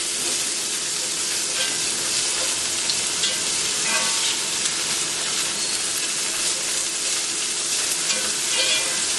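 Minced garlic and mixed vegetables sautéing in a pan for cauliflower fried rice, a steady close sizzle and hiss with faint occasional stirring, continuous throughout and without talk.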